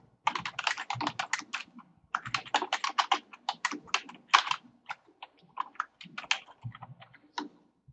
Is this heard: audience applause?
no